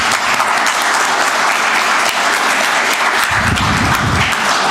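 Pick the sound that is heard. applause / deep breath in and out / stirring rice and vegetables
applause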